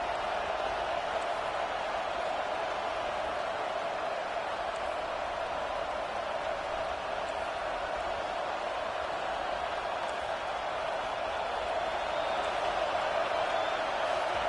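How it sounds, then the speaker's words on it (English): Stadium crowd in the college football video game NCAA 25, a constant distant roar that holds an even level from start to finish, with faint voices buried in the noise. "Listen to this crowd just shaking the girders of this place"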